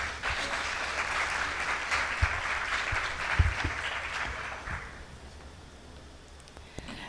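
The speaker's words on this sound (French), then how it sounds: "le public a su vous applaudir." Audience applause fills a panel session at an economic forum: a dense, sustained wash of many hands clapping at moderate loudness that tapers off after about five seconds, leaving a quiet room with a few stray claps.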